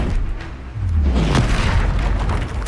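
A Confringo fire spell goes off in Hogwarts Legacy on hard difficulty, a loud, close booming blast that rumbles low and washes through a sustained roar.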